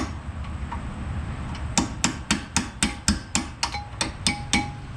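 Sharp metallic strikes of a hammer driving a punch against a fuel tank fitting ring out in a steady series of about twelve close, evenly spaced blows after a quiet start.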